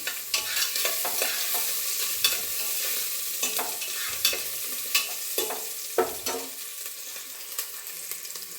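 Green chilies frying in a little oil in a pan, a steady soft sizzle broken by repeated scraping stirs, close and alone with no voices.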